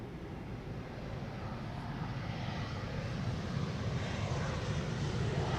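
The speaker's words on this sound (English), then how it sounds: "Another Air Baltic A220 passing overhead." Air Baltic Airbus A220 airliner passing overhead near Amsterdam Schiphol, a faint broadband jet rumble that swells gradually and steadily, with light wind noise and no talk.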